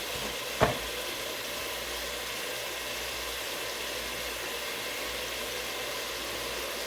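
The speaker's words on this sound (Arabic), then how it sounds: "هنحمر بصل" Onions frying in a home kitchen pan for a Upper Egyptian-style zucchini dish, a steady broadband sizzle held at even loudness throughout, with one brief sharp clatter near the start and no talk.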